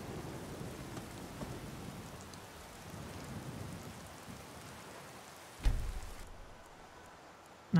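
Rain patters steadily in Skyrim, a soft constant hiss with faint rumbles, then a sudden thunder crack near the end before things quiet.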